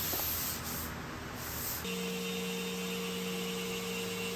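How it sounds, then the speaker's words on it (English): A Wagner Flexio 5700 turbine paint sprayer applies a toned top coat to a restored wooden dresser, giving a steady airy hiss. It shifts into a constant droning whine partway through, heard close and alone. "I'm using my Erlex 5700 by Wagner. It's a great, kind of a mid-market sprayer."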